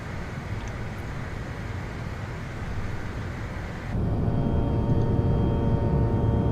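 A CRJ regional jet from an add-on sound pack in a flight simulator game drones steadily with engine hum and cabin rumble, then grows louder and fuller partway through as the engine tone shifts.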